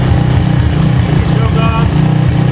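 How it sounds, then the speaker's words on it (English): A Suzuki LT230S ATV engine, just rebuilt after a seized motor, idles right after starting on the first kick, a loud, steady, close-up putter with a rhythmic pulsing chug throughout. "Oh, no way, first kick. And it idles."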